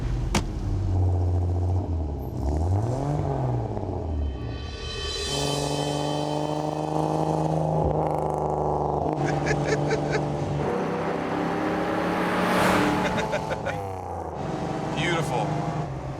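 A 1955 Mercedes-Benz 300SL engine revs and pulls away, its rising and falling tone steady and fairly close for the whole stretch, with a couple of louder surges partway through and no talk over it.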